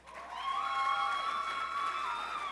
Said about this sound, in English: That's the loudest one so far. That's our cheering section.